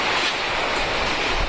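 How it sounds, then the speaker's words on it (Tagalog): Strong typhoon wind roars across the pier at Tacloban, with waves surging beneath it, a loud, constant broadband rush battering the microphone with no break. "Nandito tayo ngayon sa may pier ng Tacloban at napakalakas na ng hangin"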